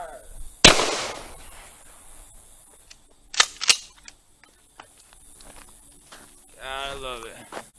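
A 20 gauge pipe shotgun fires one loud, sharp blast up close, followed by a pair of quick bangs or clacks and fainter handling noises, with voices talking.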